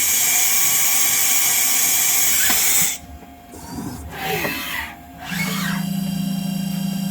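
A repaired Haas OM-2A CNC mill with a new X-axis ball screw makes rapid axis moves while its spindle whines steadily: high servo whirs and sweeping tones rise and fall, with a low hum coming in near the end.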